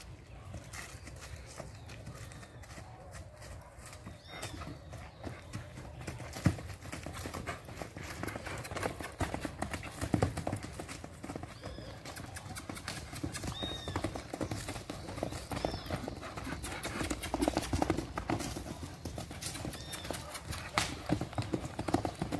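Steady hooves of a chestnut horse clip-clop at a walking pace throughout, with people talking over them and a few faint whinnies in the background.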